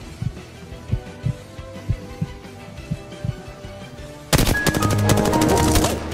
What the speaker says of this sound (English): The enemies are shooting at you.